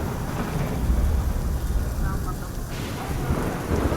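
Heavy rain pours down during a thunderstorm, with a deep thunder rumble underneath and a dense, steady hiss of falling water.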